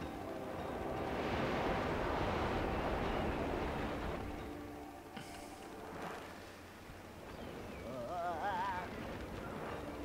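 Wind blowing in the Snake Pass video game, a soft, broad whooshing that swells and fades over several seconds, low in level, with a faint tonal whistle near the end.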